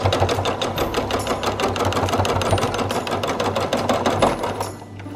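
A sewing machine stitches trim onto fabric in a steady, rapid mechanical rattle, loud and close, running continuously before slowing and stopping near the end.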